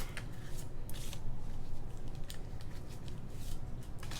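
A deck of tarot cards being cut and shuffled by hand, a close series of quick papery flicks and riffling bursts over a soft rustling background.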